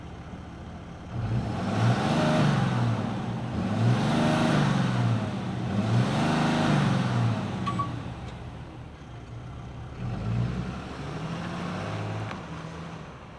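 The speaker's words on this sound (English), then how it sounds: "why don't we fire this thing up and hear what the turbo diesel sounds like" A 2024 Ram 3500 HD dually with a turbo diesel engine runs close by, its deep rumble swelling and easing through repeated revs in a slow rise-and-fall pattern, with no talking over it.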